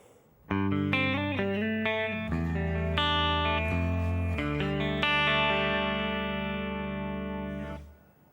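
Distorted electric guitar chords from the first verse of a song ring out with heavy effects, several shifting chords sustained and blending into a thick, buzzing wash before fading.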